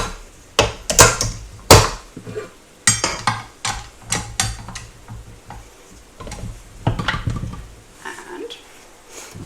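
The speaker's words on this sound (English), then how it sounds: "I'll just get that salt mixed in first" Salt being mixed into 7.5 cups of flour in a bowl, a utensil knocking and scraping against the bowl in quick, irregular ticks and clacks, close and fairly loud, with short pauses between bursts.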